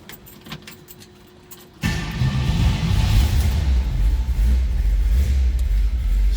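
A 1957 Chevrolet Bel Air two-door hardtop fires up after a quiet moment, then settles into a loud, steady, deep-rumbling idle close by, with no talking.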